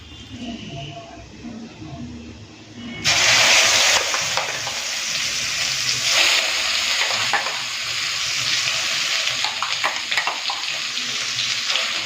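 Ground ridge gourd paste hits hot mustard oil that already holds fried nigella seeds. A voice speaks at first, then a loud sizzle bursts in suddenly and continues as a steady frying hiss with scattered crackles.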